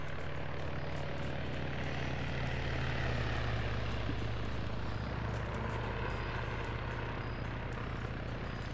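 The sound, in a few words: helicopter flying overhead, from a video game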